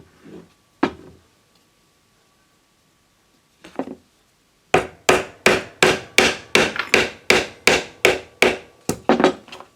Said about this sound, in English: pop in the broom handle and whack it through